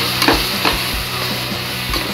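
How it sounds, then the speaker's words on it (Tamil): Ground spice powders (coriander, pepper-cumin, turmeric, chilli) are stirred into hot oil for an offal and chana dal gravy, giving a steady sizzle with regular scraping stirs and no talk. "மல்லித்தூள், மிளகு ஜீரகத்தூள், மஞ்சத்தூள், மிளகாத்தூள் அப்படியே போட்டு இந்த எண்ணெயில் கிண்டிடுவோம்"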